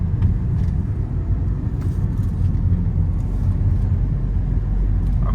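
A Tata Tiago AMT car climbs a hill in third gear, its engine giving a steady, loud low rumble heard from inside the cabin with no talking.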